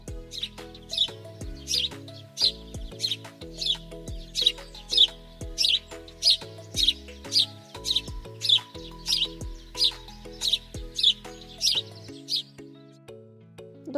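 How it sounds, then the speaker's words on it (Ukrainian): A house sparrow chirps over and over in a steady, regular rhythm, bright and close, with soft music playing underneath. "Давайте ми з вами пригадаємо, як кричить горобець."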